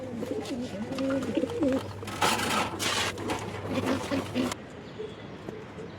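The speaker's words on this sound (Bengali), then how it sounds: "তো এখন ধরি এই কবুতরটা" A pigeon hen being caught by hand for pairing with a male coos in repeated low, throaty phrases close by, with rustling and handling noise around it and a steady background hum.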